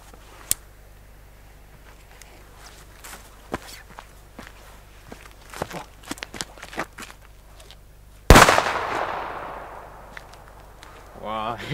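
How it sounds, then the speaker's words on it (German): A China-Böller D firecracker from FKW with a grey fuse goes off in one loud, sharp bang late in the sequence, a long noisy decay trailing after it, preceded by footsteps and scattered small knocks outdoors. "der China-Böller D von FKW mit grauer Lunte"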